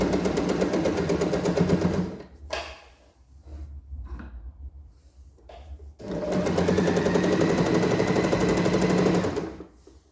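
A sewing machine runs in fast, even bursts while stitching a garment seam, loud and close, stopping for a few seconds of quieter handling before starting up again.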